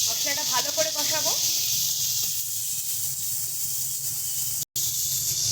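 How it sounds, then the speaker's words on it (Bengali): Spice paste with chili powder and salt fries in a pan, a steady hissing sizzle running throughout, with a voice talking briefly at the start. "সমস্ত কিছু দিয়ে ভালো করে এটাকে মিশিয়ে নেব, মশলাটা ভালো করে কষাবো।"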